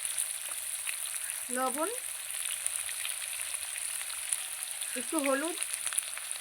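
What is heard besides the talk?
potatoes frying in oil in a pan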